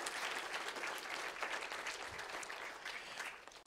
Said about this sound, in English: Everybody give a big round of applause for these two that have just entered into eternity and heaven forever